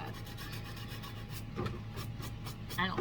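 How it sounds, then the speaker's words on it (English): Rhythmic rasping strokes of sanding on a surface, repeated back and forth at a steady pace, close and moderately loud. "I don't like the sound of sanding."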